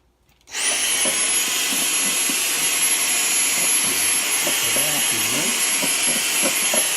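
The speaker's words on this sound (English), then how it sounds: "We'll get a vacuum. We'll suck up this stuff and the stuff that's in the body" A vacuum cleaner runs steadily and loudly, sucking dust out of the body of a ukulele during a makeover, with a continuous high whine that starts abruptly and holds throughout.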